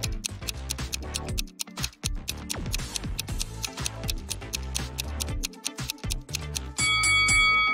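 An alarm clock ticking in a steady rhythm, mixed with a busy musical backing that keeps going throughout and swells louder near the end.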